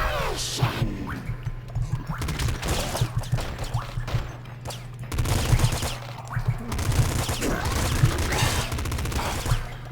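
Enemy shotgun fire in the PC game Nuclear Throne: repeated sharp blasts and clattering bursts of gunfire over a steady low game hum, with busy crashes and effects throughout.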